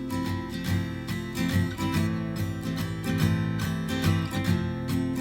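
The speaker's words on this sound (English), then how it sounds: "Non-dynamically, that would sound like this." Steady acoustic guitar strumming in a rhythmic pattern played evenly with no dynamic accents, close and continuous with regular strokes and no talking.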